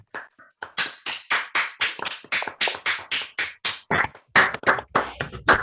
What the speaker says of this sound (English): Let us all unmute ourselves and give Doug a round of applause.